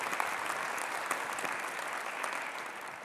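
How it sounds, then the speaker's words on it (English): An audience applauding a panel at an International Women's Day discussion, continuous dense clapping from a crowd, fairly distant and even in level without talk over it. "Everyone, please give our panel a massive round of applause."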